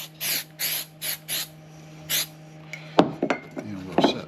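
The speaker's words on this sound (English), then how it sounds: "we'll simply take this accelerant and you spray it" A spray bottle of glue accelerant, used while building a wooden checkerboard with drawers, gives five short hissing bursts close by, followed by a few light knocks and handling sounds.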